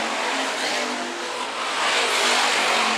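Hobby stock race cars race at Phillips County Raceway, a loud, steady roar of engines at speed that dips briefly and then swells as the cars pass near.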